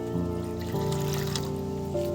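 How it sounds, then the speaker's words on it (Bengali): Water pours from a bowl into kucho nimki dough with a steady trickling splash, close up, alone for a couple of seconds. "আরো এক বাটি জল নিলাম।"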